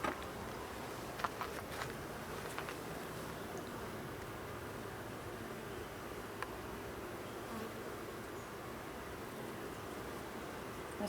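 Honey bees hum at a hive in a steady, low drone, with a few faint ticks and taps now and then.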